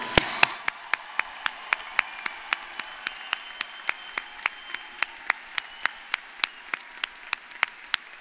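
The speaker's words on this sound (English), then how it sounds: "Let's give our graduates another round of applause." Commencement audience applause for graduates, led by one close, loud pair of hands clapping in a steady, evenly spaced rhythm for about eight seconds above a soft background of wider clapping.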